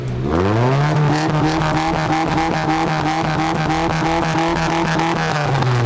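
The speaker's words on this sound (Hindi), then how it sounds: "साउंड चेक करते हैं कि इनकी गाड़ी की कितनी आवाज है" A modified car fitted with twin exhaust systems and lowered suspension revs loudly at an auto show in Islamabad, a sustained close roar that climbs in pitch and then holds a steady, throbbing drone.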